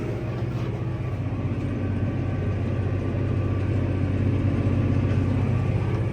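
A tractor pulling a vibrating tine cultivator across a field at about 12 km/h gives a steady, loud, low engine drone with a continuous mechanical rattle, unchanging throughout.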